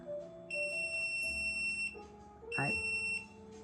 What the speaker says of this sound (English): Oh, beep, beep, beep.